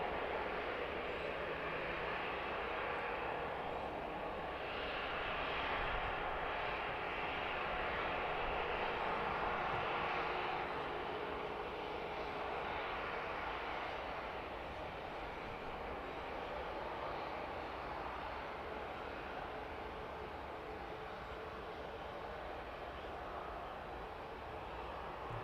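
A jet aircraft at East Midlands Airport in the evening, its engine a steady broad roar from a distance that holds level for the whole stretch and eases slightly toward the end.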